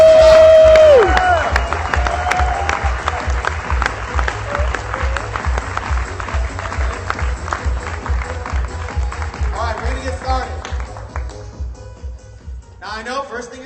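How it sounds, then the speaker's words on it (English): A conference audience in Las Vegas applauds and cheers loudly, with rhythmic clapping and whoops filling the room, while a voice speaks over the start and the crowd noise fades toward the end. "let's get a louder applause."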